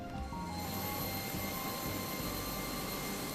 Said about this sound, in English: Let's turn the airplane noise down a bit.